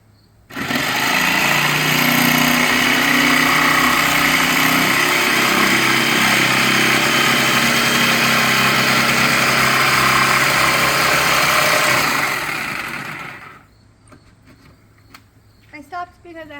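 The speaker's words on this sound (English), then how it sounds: "Now we take this as a jigsaw and it's going to cut the circle for us." An electric jigsaw cuts a circle in a wooden beekeeping feeder board, a loud continuous buzzing rattle that starts abruptly, runs about thirteen seconds, then winds down into quiet handling clicks.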